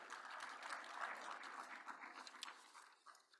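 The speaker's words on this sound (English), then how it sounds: "Can you join me in a hand of applause for the organizing team before we start?" Lecture hall audience at a public lecture on development in Zambia applauds the organizing team, a soft, distant, steady patter of clapping that thins out toward the end.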